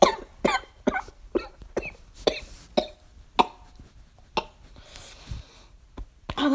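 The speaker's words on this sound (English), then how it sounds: "That was actual physical cough." A person coughs repeatedly, about a dozen sharp, close bursts spaced unevenly and separated by breathy gaps.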